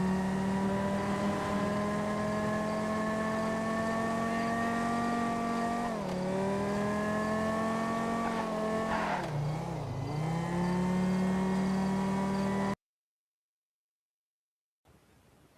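A Banshee sports car in GTA Online roars at full throttle on a highway, a loud steady engine drone that dips briefly twice as revs shift, then cuts to silence near the end.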